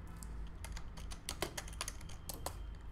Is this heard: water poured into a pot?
no